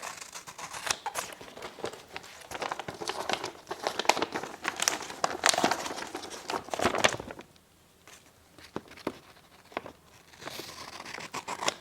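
Freshly sharpened scissors snip and slice through stiff, glossy polished paper in a rapid series of crisp cuts, with rustling and crinkling as the sheet moves, close and fairly loud.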